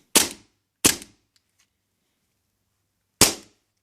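Tokyo Marui M9A1 stainless gas blowback airsoft pistol fired three times, two quick sharp cracks and then a third after a pause, loud and close with silence between shots.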